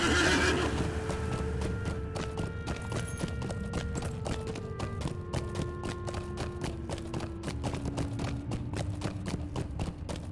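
Horse in the game Lord of the Rings Online whinnies and neighs loudly at the start, then its hooves clip-clop in a steady rapid rhythm while ridden through a dungeon cellar, with game music tones sustained underneath.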